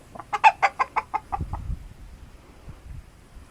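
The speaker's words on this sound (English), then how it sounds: "Look at this chicken." A chicken on a small farm clucks in a quick run of about eight close, fairly loud notes, then falls quiet, leaving low, faint rustling and shuffling noises.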